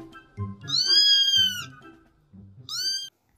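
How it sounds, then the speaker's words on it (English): A cat meows several times, drawn-out and fairly loud, over a soft, simple backing tune in an alphabet song for children. "C for cat."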